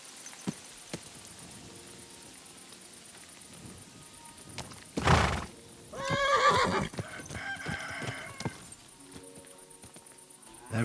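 Horse whinnies in the medieval role-playing game Kingdom Come Deliverance 2, a loud neigh followed by shorter snorting calls over soft ambience, with faint hoof thuds scattered through the quiet stretches.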